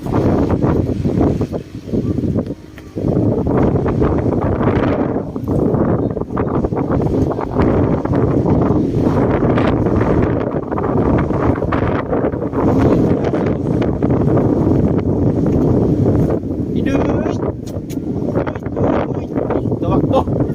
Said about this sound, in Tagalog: Kaming lakas ng hangin.